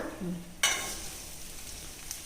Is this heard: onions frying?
yes